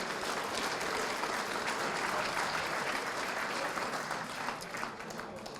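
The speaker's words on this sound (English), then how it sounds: "Let's give them a big round of applause." Sustained applause from a crowd honoring athletic Hall of Fame inductees at a school district ceremony, dense steady clapping filling the room throughout and easing slightly near the end.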